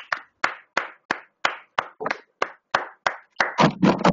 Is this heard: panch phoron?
no